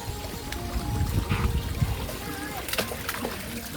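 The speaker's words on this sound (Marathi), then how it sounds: "पाणी बघा ना कसं दगडांशी येते दगडांशी." Water from a hill stream runs over stones, a steady close trickle and splash with faint voices and rustling in the background.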